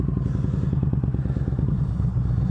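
A Yamaha V Star 1300 motorcycle engine warms up at idle, giving a close, steady low rumble with a rhythmic pulsing throb and no one speaking.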